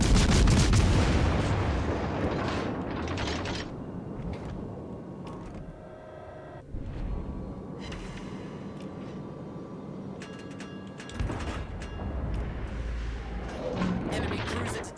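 Naval gunfire in World of Warships: Legends, with heavy booming shots and rumbling blasts that continue throughout amid game effects, partly under a speaking voice.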